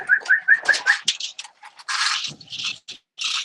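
Racing pigeons cooing at a one-loft race loft, a string of soft repeated coos up close followed by rustling, scraping and fluttering movement.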